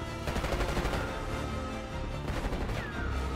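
Rapid automatic gunfire rattles in dense back-to-back bursts through a Call of Duty: Black Ops 6 campaign firefight on Veteran difficulty, loud and continuous, with no talking.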